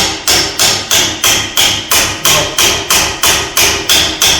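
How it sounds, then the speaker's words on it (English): A hammer strikes metal repeatedly during a rebuild of a 25-foot man-lift hydraulic cylinder, with nine or ten loud, evenly spaced blows, each ringing briefly before the next. "Give me that hammer right there."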